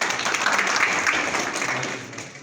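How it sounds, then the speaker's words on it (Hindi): Crowd applause welcoming a guest at a Rasme Ustad-e-Shagirdi gathering, a full, even roar of many hands clapping that carries steadily throughout and eases slightly at the end. "तालियों से एक दफ़ा इनका इस्तकबाल करें"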